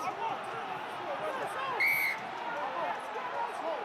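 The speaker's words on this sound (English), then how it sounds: "the whistle's gone here" A referee's whistle sounds once, short and sharp, during a rugby match involving Northampton, piercing a continuous bed of crowd noise and distant commentary chatter.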